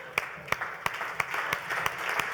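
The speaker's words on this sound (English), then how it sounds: "Round of applause." An audience applauds in a short burst, with a dense wash of clapping and a few sharp individual claps standing out at a steady rhythm, fairly loud and close throughout.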